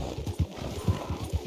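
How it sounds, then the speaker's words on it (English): Hooves of a zebra-painted donkey in the game Red Dead Redemption clip-clop in a quick, even rhythm, close and moderately loud, with no talking over it. "That's a donkey painted like a zebra."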